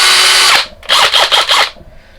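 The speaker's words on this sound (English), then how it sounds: "I'm going to get the big boy drill out" A large power drill whines at full speed, close and loud, then stops and runs again in four quick bursts of trigger pulses before falling quiet.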